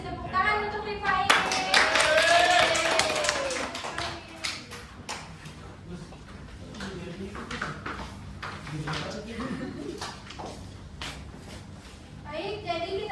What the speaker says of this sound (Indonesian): Tepuk tangan untuk Rifai